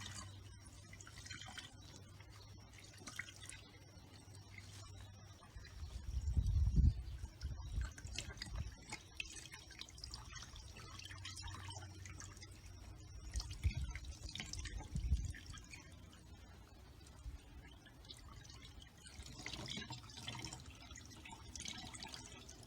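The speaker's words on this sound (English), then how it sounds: "Once you do that, then you can pick it up and just squeeze out that excess liquid." Wet, dye-soaked fabric squeezed out during ice dyeing, giving squelching bursts and liquid splattering and dripping onto a grate, louder around the middle and again later, with no talking.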